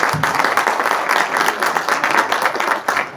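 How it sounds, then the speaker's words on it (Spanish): An audience applauds a female doctor being introduced at a seminar on violence in the twenty-first century, a dense, steady wash of many hands clapping that fills the hall for a few seconds. "un fuerte aplauso para ella"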